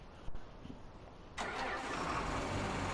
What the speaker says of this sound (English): Oh, love that tractor.